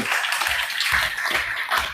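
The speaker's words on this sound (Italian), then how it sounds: "Anche questa è un bellissimo applauso" An audience at an award ceremony for the Premio Civitas Vitae 2025 claps in a dense, even patter of hands, brief and moderately close, with no talk over it.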